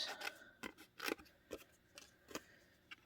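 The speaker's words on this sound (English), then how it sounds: "So now I am going to fussy cut." Scissors snip through paper card stock in short, quiet cuts, several irregular clicks spaced around half a second apart during fussy cutting of a stamped card piece.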